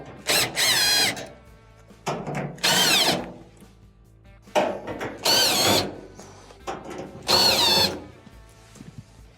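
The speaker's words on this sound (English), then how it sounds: "there are a couple of Phillips screws that have to be taken out" A power drill backs Phillips screws out of a clothes dryer bulkhead in four separate bursts of loud whirring with rising and falling pitch, separated by short pauses with faint clicks and handling.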